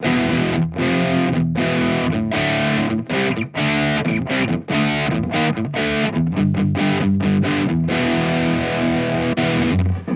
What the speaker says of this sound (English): That's the crunch channel.